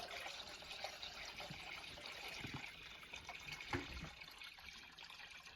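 Water is poured slowly into a small home aquarium tank over gravel, making a faint, continuous trickle and splash with no one talking.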